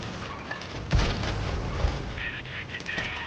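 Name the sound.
double-barrel tank cannon firing in World of Tanks video game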